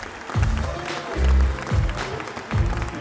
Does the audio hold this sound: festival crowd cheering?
yes